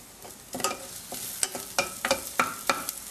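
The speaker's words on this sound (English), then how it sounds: "they're all starting to sizzle nicely" Garlic sizzles and crackles in a hot pot while a utensil stirs it, with sharp scraping clicks in an uneven rhythm.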